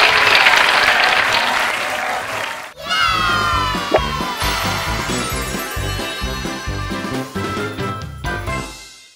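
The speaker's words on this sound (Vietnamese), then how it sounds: "Một lần nữa, dành một tràng pháo tay cho Trí Tài và lớp 10A2." Loud, sustained applause from a large crowd fills the clip, briefly dipping before surging back, with bright music and cheering mixed in.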